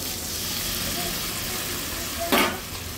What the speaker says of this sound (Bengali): সামান্য একটু জল দেওয়ার পরে মশলাটা ভালোভাবে এই জলের সঙ্গে মিক্সড হয়ে যাবে